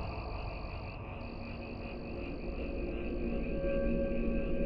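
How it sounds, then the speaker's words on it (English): Deep frog croaking forms a dense, droning chorus in an audio drama scene, slowly swelling in loudness with no voices. "we were suddenly surrounded by the sound of deep croaking"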